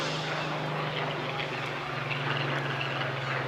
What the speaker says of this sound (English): starting to glint on that blue colour scheme of the elliptical wing of the Spitfire, coming straight towards us now on the seafront